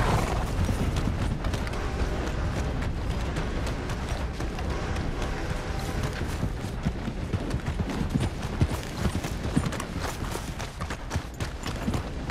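Horse hooves clip-clop steadily in the video game Red Dead Redemption 2, a continuous trotting rhythm blended into a dense, loud layer of in-game ambience.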